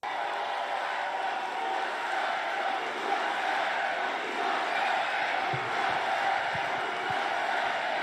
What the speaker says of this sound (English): I can't even tell what they're chanting.